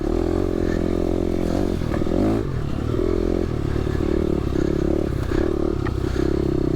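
A KTM dirt bike rides a soaked single-track trail in Luzern, Michigan, its engine a steady, close, loud buzz with small throttle surges and faint clatter from the trail.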